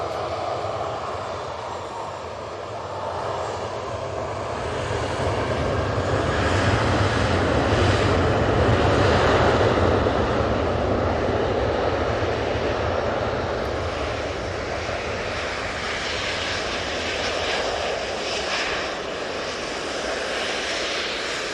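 A Ryanair jet departs Manchester Airport, its broad engine roar swelling to a peak midway and then easing into a steady rumble; moderately loud at a distance, with no talk.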